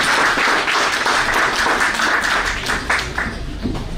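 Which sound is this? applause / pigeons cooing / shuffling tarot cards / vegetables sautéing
applause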